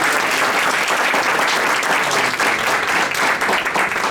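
Sustained applause from a forum audience for nine judicial candidates, steady and dense clapping filling the room at close range without a break.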